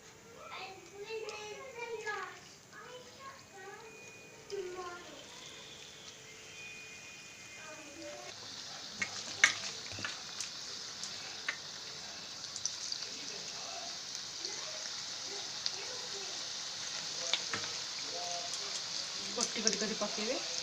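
Potato besan pakoras frying in hot oil, a steady crackling sizzle that builds and carries on while people talk nearby, including a voice.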